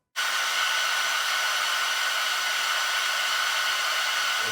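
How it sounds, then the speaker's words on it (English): A hair dryer switches on and blows steadily at high power, a loud, even whooshing roar that continues without change. "Yes, this is my own hair dryer."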